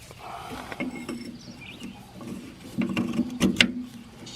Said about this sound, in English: then you turn it with a ratchet and this opens up, this chute.